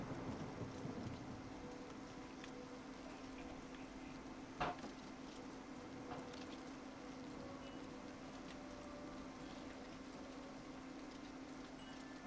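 Rain in the video game Oblivion Remaster falls as a soft, steady hiss on wet ground, quiet and unbroken, with one faint sharp tap midway and no talking.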